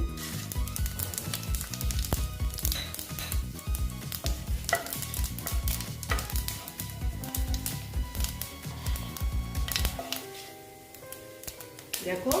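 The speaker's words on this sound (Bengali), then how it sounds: "তারপরে দিচ্ছি আমি পাঁচ ফুড়ন" Panch phoron spices crackle and sizzle in hot oil alongside dried red chillies, a busy frying hiss with scattered pops and stirring taps, while someone speaks over it intermittently.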